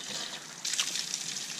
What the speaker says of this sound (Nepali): यस्तो दामी पानी आउँछ यहाँ चिसो